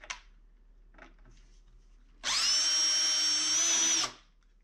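A power drill whirs loudly at high speed for about two seconds, then spins down, following a few quiet clicks and handling sounds.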